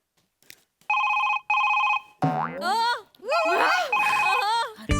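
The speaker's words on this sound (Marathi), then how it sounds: "कुणाचा फोन आहे ग कुणाचा फोन आहे बया" A telephone rings in two short electronic bursts, then people talk excitedly over more ringing, close and fairly loud.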